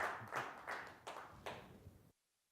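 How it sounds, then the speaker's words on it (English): Audience applause follows a talk at the ASU GSV Summit: a short burst of several rhythmic claps over about two seconds, then it cuts off abruptly into silence. "And now we can applaud"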